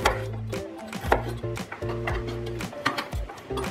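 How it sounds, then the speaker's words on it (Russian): Rapid knife chopping of garlic and onion on a cutting board, quick irregular taps under soft background music, close and fairly loud. "Сразу же я порежу чеснок и лук."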